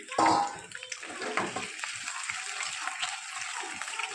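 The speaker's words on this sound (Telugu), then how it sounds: "నేను ఉడికించి పెట్టుకున్నటువంటి ఈ గుడ్లని వేసి వేయించుకుంటున్నానండి" Boiled eggs tossed into hot oil for egg biryani, opening with a brief loud splash and clatter, then a low uneven sizzle with soft stirring sounds.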